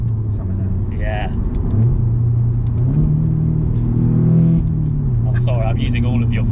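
A manual Audi S3 engine revs sharply as the driver downshifts into third gear, rising and dropping in pitch with a throaty rumble, heard from inside the car while people talk over it.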